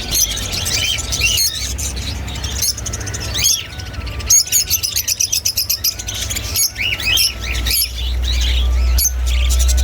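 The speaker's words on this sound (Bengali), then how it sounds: "পাখিদের কিচিরমিচির শব্দে" Exotic caged birds at a bird market in Chittagong, a dense, loud chorus of overlapping chirps, tweets and squeals close by, over a low steady rumble that swells toward the end.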